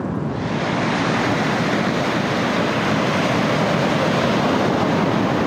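Ocean waves roar against a rock shelf in a continuous, loud wash of surf that never lets up, on the NSW Central Coast, Australia.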